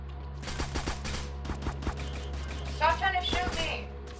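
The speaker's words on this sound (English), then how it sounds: "Stop trying to shoot me!" Rapid bursts of gunfire in a video game, sharp cracks in quick runs and scattered single shots across the clip, with busy game sounds and a steady low hum underneath and a brief chirpy effect near the end.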